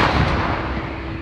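Artillery guns firing in a frontline position, a loud, sustained booming blast that fills the whole short stretch with rumbling roar and no voices.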